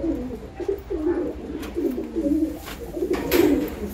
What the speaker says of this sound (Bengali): এবার মাটি পায়রাগুলোকে খেতে দেবো মিক্স ফুড।